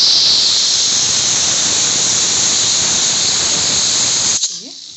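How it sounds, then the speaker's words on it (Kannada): Pressure cooker whistling while pulao (togarikaali bhat) cooks, a loud continuous high steam hiss and squeal held for over four seconds before cutting off abruptly into quiet. "ಕುಕ್ಕರಿನ ಮುಚ್ಚಳ ಮುಚ್ಚಿ ಕೂಗಿಸಿದ್ರೆ ಇಲ್ಲಿಗೆ ಪಲಾವ್ ಮುಗಿಯುತ್ತೆ"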